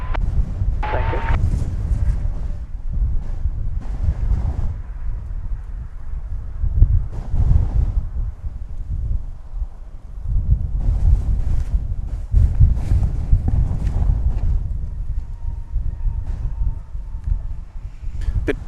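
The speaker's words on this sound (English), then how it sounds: "Bit blustery here this morning, or this afternoon, I guess I should say now." Gusty wind buffets a microphone outdoors at DFW Airport, rising and falling in rough low-pitched bursts with a faint distant engine hum underneath and no speech.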